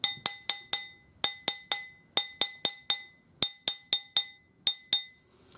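A hammer strikes a metal three-colour anticlastic spinner ring at a jewellery bench. Close, ringing metallic taps fall in quick groups of three or four, with short pauses between the groups.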